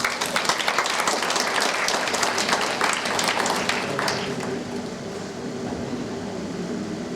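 An audience at a church gathering gives sustained, lively applause to welcome a preacher, a thick wash of clapping that gradually thins and fades over the final seconds.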